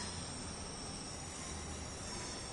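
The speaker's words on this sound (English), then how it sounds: "We got train coming in." A Pendolino electric train arrives at a station in the railway simulator Train Sim World, a faint, steady rumble and hum of the train rolling in, with no talk.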